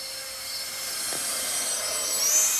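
An RC crow model powered by a 50 mm, 10-blade electric ducted fan on 4S flies overhead outdoors, giving a steady high-pitched jet whine that swells slightly and stays loud throughout.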